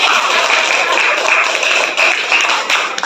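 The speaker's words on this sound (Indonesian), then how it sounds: "Sudah, tepuk tangan" A class claps together in a dense, steady burst of applause, many hands patting at once at close range for about three seconds with no voices on top.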